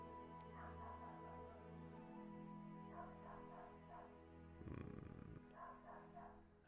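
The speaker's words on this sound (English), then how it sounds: "A bloody dog." A dog gives a few short, yipping barks that sit under a steady low hum, with a louder, rougher burst near the end.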